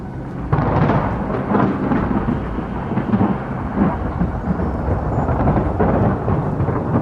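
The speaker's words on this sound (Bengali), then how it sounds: "আকাশ বাতাস বিদীর্ণ করে কর্কর শব্দে একটা বাজ পড়ে" A thunderclap in a storm, a loud rumbling crack that rolls on continuously over several seconds with rain hissing beneath it.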